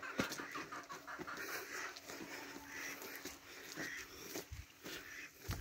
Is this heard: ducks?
yes